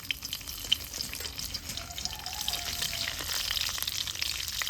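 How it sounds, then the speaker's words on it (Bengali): Whole spices sizzle in hot mustard oil with a dried red chilli, two bay leaves and panch phoron, a soft steady crackle and hiss with faint stirring throughout. "একটু সময় ধরে মশলাগুলো ভেজে নিচ্ছি"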